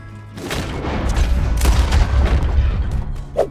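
A loud Red Dead Redemption 2 gunfight at Clawson's Rest, with heavy booming shots and rolling echoes piling into a continuous barrage, close and dense, fading slightly at the end.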